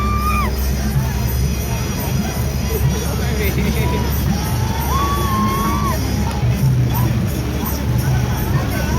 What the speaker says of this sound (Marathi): या बोटीमध्ये आपल्या अंतर्गत बघा जल्लोष आहे, तिथे नाचत आहे